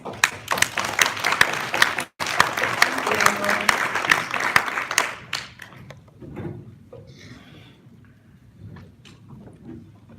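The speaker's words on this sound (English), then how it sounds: "Please give us a very big applause." A conference audience applauds a panel at an IoT product development event, steady clapping for about five seconds that cuts briefly, then fades into scattered claps and low room noise.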